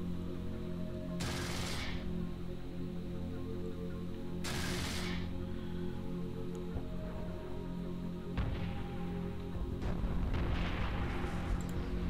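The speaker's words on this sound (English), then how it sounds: "You've taken damage from the nearby explosion." Heavy ship weapons fire and explosions in the EVE Online space game: three sharp booming blasts spaced a few seconds apart, followed by rumbling impact noise, over a constant low drone with no talk.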